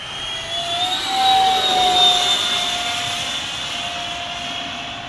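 A small FF 117V2 model jet with an electric ducted fan flies at full throttle, a loud sustained high-pitched whine that swells and then slowly fades as it passes and moves away.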